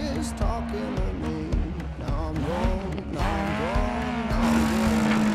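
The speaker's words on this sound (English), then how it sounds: "Hey, sounds like the gearbox is going" Historic race car with a failing gearbox at speed on a rally-style stage, engine droning steadily loud throughout with shifting pitch, while a voice talks over it calling out directions.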